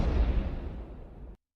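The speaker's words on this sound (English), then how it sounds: "Goddamn explosion." A loud, booming explosion with a heavy low rumble that decays over about a second and a half before cutting off abruptly, with no voices.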